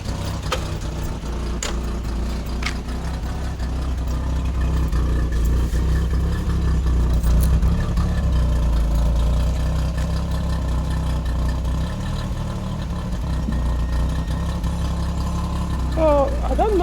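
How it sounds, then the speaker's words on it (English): Peugeot 505 V6 with a manual gearbox idling roughly and misfiring, a steady low engine rumble that runs the whole time with an uneven, lumpy pulse and a brief lift in the revs near the end. "If I try to accelerate it to rough idle"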